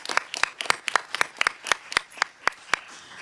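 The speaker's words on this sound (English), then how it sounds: "I'd like to give them a big round of applause" A single person claps at a board of education meeting, about a dozen crisp, separate claps at a steady, even pace, close and fairly quiet, with no voices over them.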